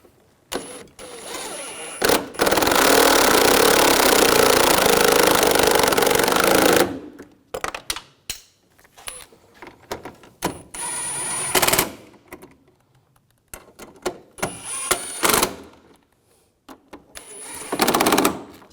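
Bolts on the bumper brackets of a 2011-2018 Volkswagen Jetta are driven tight with a power tool, giving a long loud buzzing rattle followed by several shorter close bursts separated by quiet gaps.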